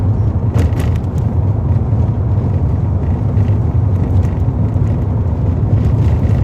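A car engine accelerating while driving a test route, a steady loud rumbling drone that holds throughout with a few brief clicks near the start and no voices.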